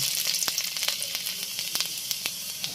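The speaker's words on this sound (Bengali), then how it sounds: "এবার দেব ছয় সাত কোয়া রসুন কুচি" Six or seven cloves of chopped garlic fry in a little oil in a wok, a continuous close sizzle dotted with sharp spatters and crackles.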